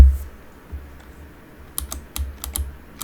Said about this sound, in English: you can hear me just pushing the keyboard